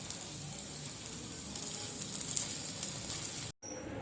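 A bread omelette sizzles steadily in an oily pan after being turned over, a close, even crackle that runs unbroken and then cuts out abruptly near the end.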